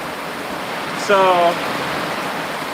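Intense rain pours down at a house, a steady broad hiss throughout, with a short spoken word briefly rising over it.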